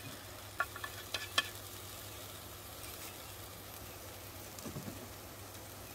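Vegetables fry and get stirred in a pan on an induction cooktop at a tailgate camp setup: a faint, steady sizzle with a few sharp clicks of stirring early on and a small cluster near the end.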